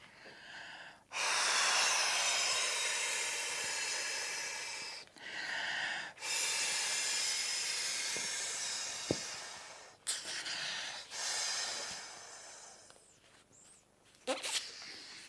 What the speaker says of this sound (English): And lastly, we will inflate the Korjo one.